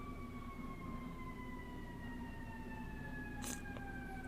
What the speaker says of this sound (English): Okay, now there's a siren.